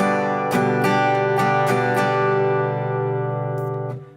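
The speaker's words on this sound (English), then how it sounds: "just syncopated strumming pattern" A short syncopated strum pattern on guitar, several crisp chord hits that ring out and fade, played alone up close.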